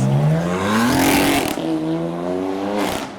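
A custom BMW M3 drives past up close with a loud, rising engine note that shifts pitch as it goes by, then the revs climb again. No one speaks over it.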